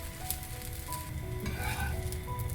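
Coconut dosa fries in oil on a pan with a steady, close crackling sizzle that runs throughout, with no one talking.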